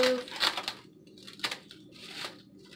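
Paper sealant being peeled off risen sweet roll dough, giving a few close bursts of crinkling and tearing with short quiet gaps between them.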